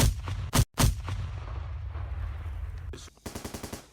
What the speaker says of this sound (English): Now with enemy positions known, the 106mm mortar is used to further punish the already pinned VC.